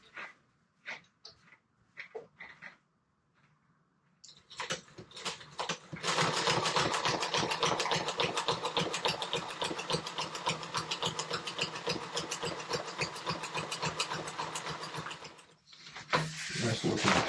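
A sewing machine stitches a seam along the hem of a homemade 110% jib sail for a Com-Pac 16 sailboat, running in a fast, steady mechanical rattle for about ten seconds after some brief talking and short starts.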